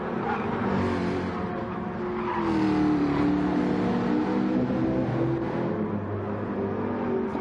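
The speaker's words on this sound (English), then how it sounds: "Smoking his tyres as he gets away there, Lucas." Race car engine roaring steadily as it pulls away at Suzuka during a 4-hour endurance race, tyres smoking at the getaway; loud, continuous engine drone with rising and falling revs, no talk over it.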